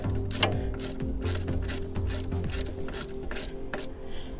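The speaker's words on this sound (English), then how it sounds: "we're gonna finish up that tightening with our" A 5/16 ratchet clicks in quick bursts while tightening a brake caliper pin bolt on a Harley-Davidson Sportster Iron 1200 during a brake squeak repair, roughly nine short ratcheting strokes, close and alone over a steady background hum.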